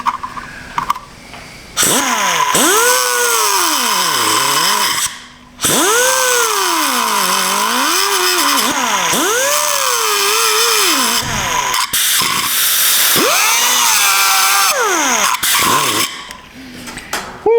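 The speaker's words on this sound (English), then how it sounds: "Get your groove cleaner. It's kind of like a hole polisher, only different." A power groove cleaner whining as it cleans a groove, a loud, continuous high-pitched tool sound that rises and falls in pitch in repeated sweeps, with a few short pauses between runs.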